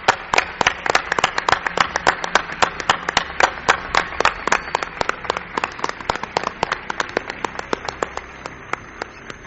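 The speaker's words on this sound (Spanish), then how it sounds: "Yo quiero un aplauso para mi buen amigo, querido Gonzalo Pérez Sarró" Studio audience applauding on a Spanish radio programme, a dense burst of clapping that thins gradually over several seconds, no talk over it.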